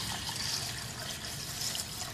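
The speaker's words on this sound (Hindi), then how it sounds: "हस्बे ज़रूरत पानी शामिल कर देंगे इसमें" Water is poured into a bowl of mash lentils being set to soak, a faint steady trickling and splashing stream lasting a couple of seconds with no talking.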